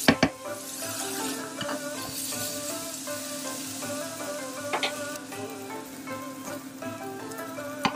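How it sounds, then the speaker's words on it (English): Garlic sautéing in a pan for Chinese-style garlic green beans. A steady close sizzle runs throughout, broken by occasional sharp scrapes and clinks of a utensil stirring against the pan. "now you just want to saute this until that garlic gets a little bit toasty and a little bit"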